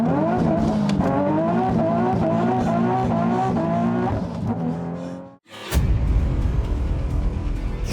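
A supercharged 2014 Nissan 370Z Nismo accelerates hard through several rising gear pulls, each climb cut by a quick shift, then the engine drops off briefly before a loud, broadband rush of exhaust and road noise returns close by.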